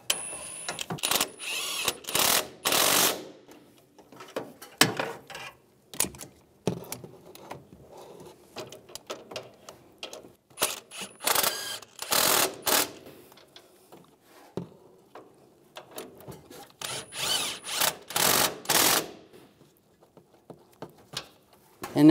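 A ratchet or impact tool snugs the upper shock mount bolts on a 2007-2013 Chevrolet Silverado 1500 in several separate bursts of rapid clicking, close by, with pauses of handling noise between them.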